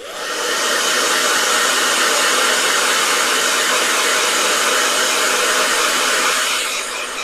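A blow dryer runs steadily with a loud, constant whooshing hiss that holds even throughout and tapers off slightly at the end.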